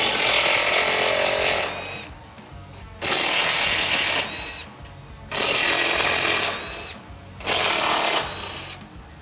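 A power tool loosens the T45 Torx bumper bolts on a Jeep Wrangler JL during a Mopar front bumper install, running in four loud, rattling bursts of about two seconds each with short pauses between.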